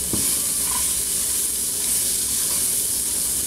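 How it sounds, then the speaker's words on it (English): Onions sautéing without oil in a Saladmaster electric skillet set to 190, a steady close sizzle with a faint hiss of steam and occasional stirring, no voices. "Saute for a while."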